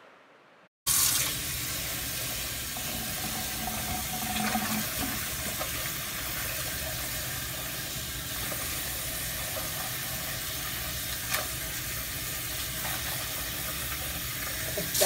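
A household water tap runs at about 2.2 gallons per minute. After a brief quiet start, a steady, close stream of rushing water continues unbroken to the end.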